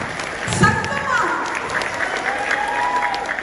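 Audience applause fills a Tamil comedy debate hall, a sustained wash of clapping from a large crowd that holds steady for several seconds with a slight swell early on.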